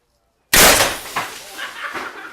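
A sharp, loud firing blast from an Eclipse launcher shooting a projectile into sound blankets, a single sudden burst that decays over a second with a few smaller impacts trailing after.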